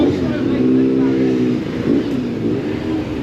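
A Honda VFR motorcycle rides past at a classic vehicle meet, its engine note swelling and sliding in pitch as it goes by. Excited voices speak over the passing bike.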